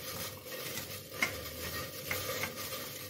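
Chicken curry frying in a pan with a constant low sizzle, while a utensil stirs and scrapes against the metal, adding a few light clinks and ticks.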